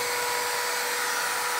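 A steady, high-pitched electric drill motor whine, powered by a small 30-watt solar kit, runs continuously at close range, spinning without load.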